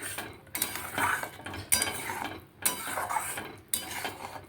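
A spoon stirs rui fish curry in a pan, making four distinct rounds of metallic scraping and clinking against the pan, each starting with a sharp knock, close and moderately loud.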